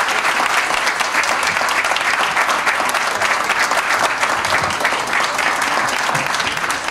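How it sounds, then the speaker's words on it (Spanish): Loud, sustained applause from the crowd at a housing development inauguration ceremony, a dense continuous roar of many hands clapping with no pause. "el aplauso final es para ustedes"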